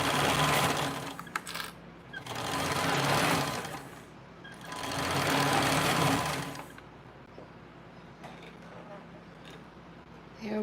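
A sewing machine back stitches in three long whirring runs, each swelling and fading with short pauses between, loud and close, while a person talks over the quieter stretches.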